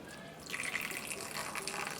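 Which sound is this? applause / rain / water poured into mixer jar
water poured into mixer jar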